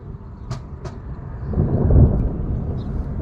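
A heavy thunderclap during a torrential storm in southern France, a deep rolling boom building up and lingering, with a few faint sharp sounds just before it.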